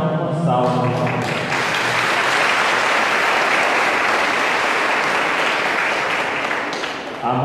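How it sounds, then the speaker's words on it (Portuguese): A church congregation at a Mass applauds together, a dense sustained clapping that swells quickly, holds steady for several seconds and fades slightly at the end, loud and close. "A eles nossa gratidão, uma salva de palmas."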